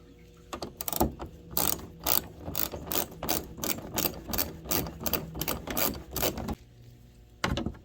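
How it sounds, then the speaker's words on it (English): A socket ratchet clicks in quick repeated bursts while screws are backed out, a steady run of close mechanical ratcheting with a brief pause near the end. "Let's get started pulling screws."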